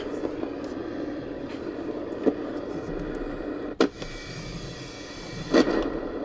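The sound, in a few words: radio static from a radio plugged into a tube amplifier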